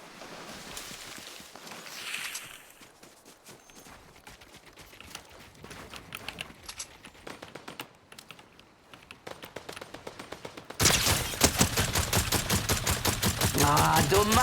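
Rapid gunfire bursts crackle from a Fortnite match, a quieter stretch of scattered shots giving way to a louder, dense volley near the end.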